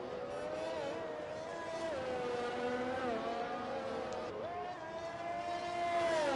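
Onboard race car engine in a racing video game, a continuous whining drone that shifts pitch with upshifts and downshifts, with a commentator's voice talking over it.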